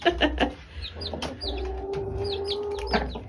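Newly arrived chicks cheep with high, rising peeps all through the clip, close by, while a hen clucks low and keeps making a sustained throaty call.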